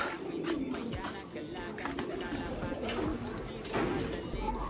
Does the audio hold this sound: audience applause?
no